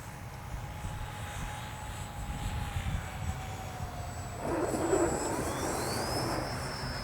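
An E-flite EC-1500 Twin electric RC airplane with flaps down makes a low, slow pass over grass, its twin motors humming steadily and swelling louder as it comes near, with a pitch sweep near the end.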